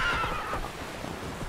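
Roach, a horse in The Witcher 3, lets out a clear, close neigh, a short whinny that trails off, with faint hoof and ambient noise beneath.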